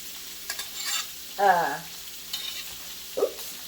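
Omelette filling with jalapenos being stirred and mixed in a frying pan, giving a soft sizzle with brief scraping stir strokes, close and fairly quiet, with no talking.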